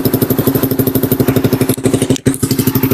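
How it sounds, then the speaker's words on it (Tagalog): A small engine, likely a motorcycle, idles after an oil change, with a steady fast pulsing beat heard close and loud. The rhythm drops out briefly near the end before it picks up again. "Engine sound check."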